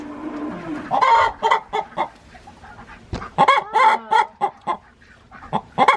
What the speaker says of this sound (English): she's a silver-laced Wyandotte who's quite old